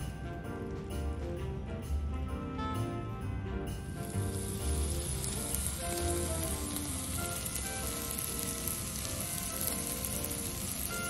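Duck grills on a grill pan with a dense, steady sizzle and crackle like light rain, close and continuous throughout, without speech.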